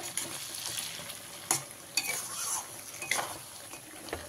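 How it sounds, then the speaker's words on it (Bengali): Bhetki fish bone chorchori is stirred in a frying pan after the lid comes off, giving a soft, low sizzle with a few sharp clinks and scrapes of a spatula against the pan. "ঢাকাটা সরিয়ে দিলাম, দিয়ে ভালো করে মিশিয়ে নেব।"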